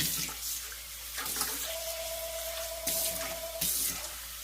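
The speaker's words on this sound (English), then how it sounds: "So I'll put some water in here." A short, quiet run of water flowing from a tap into a bowl while making kimchi, with a few soft knocks and clinks around it.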